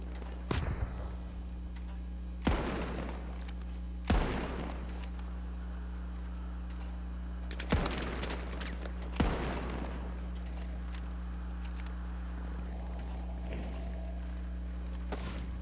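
Frag grenade blasts in The Finals during a ranked tournament match: five sharp, booming explosive bursts spaced irregularly over a steady low rumble of game ambience, with no voices.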